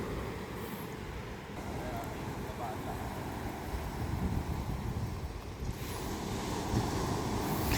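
Ocean waves wash steadily at high tide at a beach resort, a broad continuous rushing roar mixed with wind buffeting the microphone, with speech nearby.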